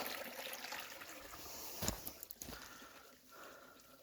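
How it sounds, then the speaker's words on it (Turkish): A creek running after rain, a soft continuous trickle and splash of flowing water heard faintly up close, with a few brief louder splashes partway through. "Keşke bu dere böyle yazın da aksa."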